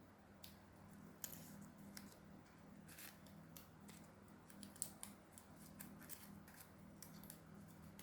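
Scissors snipping paper being folded into a lotus flower, a series of faint, close crisp cuts in an irregular rhythm over a low steady hum.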